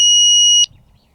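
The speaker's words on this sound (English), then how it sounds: "beeper on this one. This one's deafening." Beeper on a Dog Trace X30 dog training device, a single loud, piercing high-pitched electronic tone held for over half a second before cutting off sharply, heard close.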